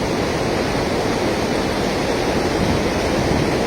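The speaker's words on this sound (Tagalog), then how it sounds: "Lakas ng current ng tubig." A strong river current rushes at a cast-net fishing spot, a loud, dense, unbroken wash of flowing water close by with no voices.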